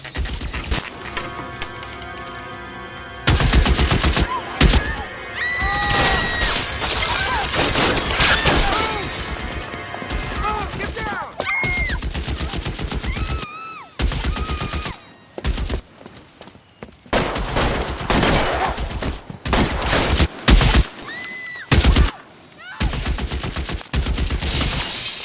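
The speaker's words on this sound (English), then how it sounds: "1384 North Bronson, shots fired." Gunfire in the video game L.A. Noire at a shooting scene: loud, dense volleys of rapid shots and cracks with brief pauses, continuing in bursts throughout.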